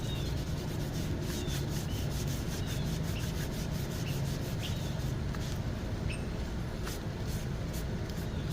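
Brake rotor on a 2009-2014 Ford F-150 being wiped with a cloth and rubbing alcohol, a continuous close rubbing swish with a steady repeated rhythm and no speech.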